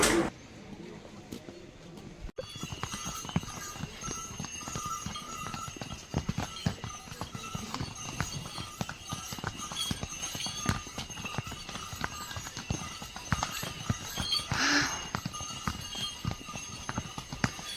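Mule hooves clip-clop steadily along a mountain trail on the trek to Tungnath temple, a dense run of close hoof strikes with faint birds and outdoor ambience around them.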